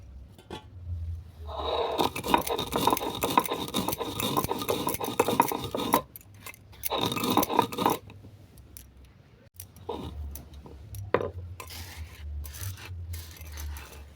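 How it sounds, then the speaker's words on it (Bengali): A dried spice mix is ground for a Bengali lau data shukto, a steady dense whirring grind running in bursts with short pauses, close and fairly loud, with no talk. "এরপর যে মশলাটা আমি ডাই করে রেখেছিলাম ওটাকে গুঁড়ো করে নেবো"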